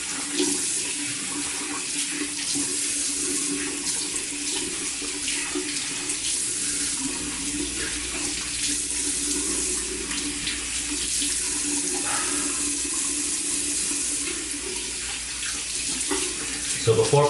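Cold tap water runs steadily into a sink for face rinsing after a shave with tallow soap, a continuous broadband splashing rush with occasional brief splashes as hands move, close and fairly loud throughout.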